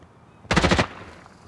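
Automatic gunfire in the video game Escape from Tarkov, a single tight burst of about six rapid shots, loud and close, with a quiet tail afterward.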